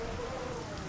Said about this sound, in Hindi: ये सिर्फ बारिश है और कुछ भी नहीं।